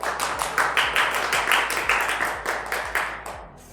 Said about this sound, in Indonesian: Sekali lagi tepuk tangan buat teman-teman.